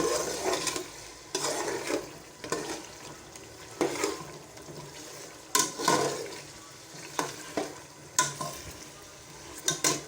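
Mutton and potatoes frying over high heat in a Phool Gobi Gosht curry, with repeated bursts of sizzling and stirring scrapes in the pan, close and moderately loud, with no talking.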